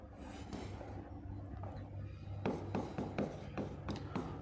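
Marker or chalk writing an explanation on a classroom board, a quiet stretch followed by a series of short scratchy strokes and taps, faint and close.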